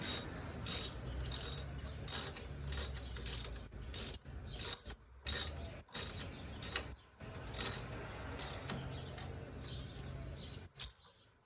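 A hand ratchet turns a bolt while fuel injectors are installed on a 1990 Ford F150 with the 4.9L 300 inline-six. Close, clicking bursts come about a dozen times, separated by short pauses.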